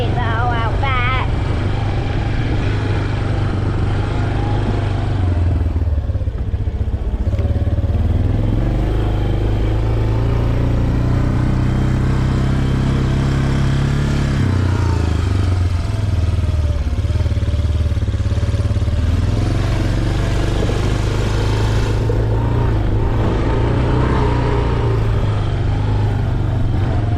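A 2003 Yamaha Big Bear ATV engine runs continuously at close range after an oil change and maintenance. It has a rough, clattering motor note and rpm that rises and dips unevenly throughout.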